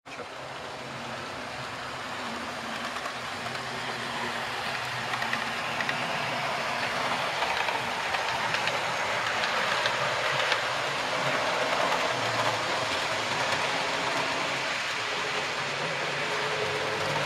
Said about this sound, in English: this is the gradient that Mark's little locomotive couldn't handle, so we put Jinty on the front